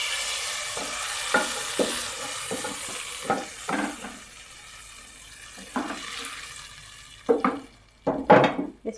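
Tadka for moong dal frying in a handi (cooking pot) and being stirred, with a soft steady sizzle broken by irregular scraping and clinking strokes of the spoon, growing louder and busier near the end.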